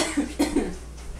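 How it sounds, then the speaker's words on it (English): A few quick, harsh coughs in a row, close by, followed by quiet. "Still coughing up peppers."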